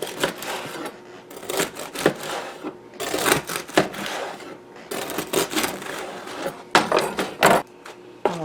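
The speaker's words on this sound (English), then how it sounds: "I'm going to cut some nice crusty bread." Crusty bread being sawn with a knife in a home kitchen, giving bursts of crunchy, crackling rasps in repeated strokes, close and fairly loud with short pauses between cuts.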